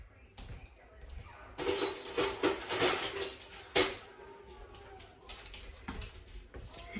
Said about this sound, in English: Let me grab another spoon.